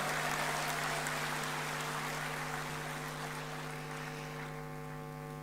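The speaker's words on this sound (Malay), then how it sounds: "Kita berikan tepukan bergemuruh semua untuk mereka." Crowd at a political party convention applauding steadily, a broad, sustained wash of clapping that slowly fades, with a strong electrical hum running underneath.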